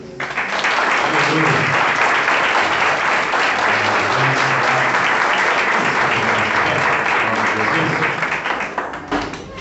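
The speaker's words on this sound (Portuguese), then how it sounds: "Salve de palmas para Deus." A church congregation at an Assembléia de Deus service claps loudly for God, a full, sustained ovation close by, with murmured voices under it and a taper at the end.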